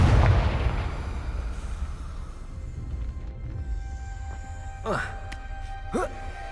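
A Confringo fire spell explodes in Hogwarts Legacy on PC: a loud, close burst at the start that rolls off into a low, lingering rumble, with brief voice-like sounds toward the end.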